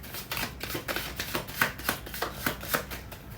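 Tarot cards are shuffled by hand in a steady series of crisp riffling bursts, close and fairly loud, each about a third of a second apart, with no voice.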